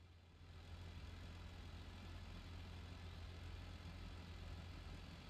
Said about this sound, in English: Quietly, a car rolls up to the town's only stoplight, sitting there, idling.